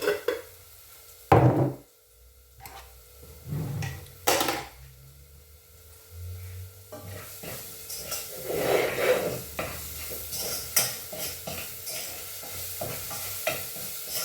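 Garlic and ginger sauté in oil in a home kitchen, opening with a few sharp utensil knocks against the pan and then settling into a steady, close sizzle with scraping stirs; no one speaks.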